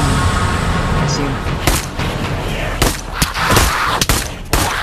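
Gunfire in the zombie shooter VR game Pavlov, with sharp, loud shots cracking irregularly over a dense, noisy game background, several isolated bursts spread across a few seconds.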